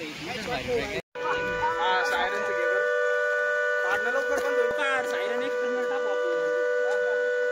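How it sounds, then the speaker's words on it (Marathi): A warning siren at Mula Dam sounds as a steady, sustained wail with layered tones, carrying on for several seconds while people talk nearby. "किती सायरन वाजतं, येतं का नाही पाणी?"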